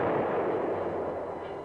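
Tank and anti-tank gunfire in battle around the M60 Patton tank, heard as a dense, continuous rumbling roar of heavy fire without distinct separate blasts, fairly faint and steady throughout.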